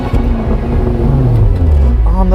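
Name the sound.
Range Rover Sport 4.4 liter V8 engine revving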